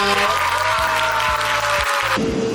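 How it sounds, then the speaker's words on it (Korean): Audience applause fills the closing ceremony of a 2024 event in Chungnam, a dense, steady clatter of many hands with a sustained tone beneath it that fades near the end. "박수 한 번 부탁드립니다"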